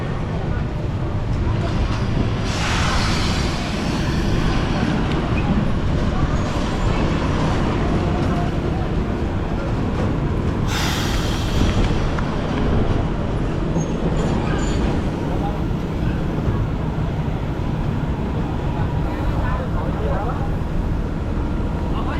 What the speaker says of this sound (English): I think I hear a train horn, so it looks like our train is arriving.